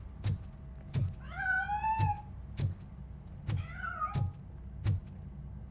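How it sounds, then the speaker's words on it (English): Cat meowing inside a building in Robocop: Rogue City, two drawn-out rising-and-falling meows heard clearly over a steady low hum and a series of regular, sharp percussive thumps. "That cat must be hiding inside."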